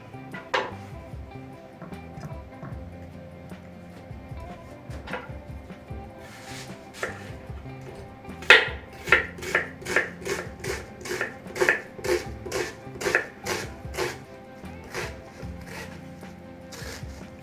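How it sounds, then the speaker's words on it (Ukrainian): Rapid knife chops of onion on a cutting board, scattered at first and then a steady run of sharp, close taps over faint kitchen background noise. "я буду нарізати цибульку і молоти м'ясо на фарш"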